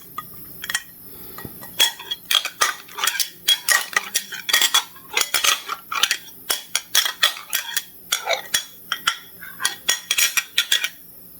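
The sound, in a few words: plate and cutlery clinking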